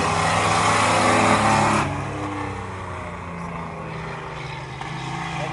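Racing trucks roar around a race track during a qualifier, a loud steady engine drone with a brief surge that then settles to a slightly quieter continuous rumble, with faint talk underneath.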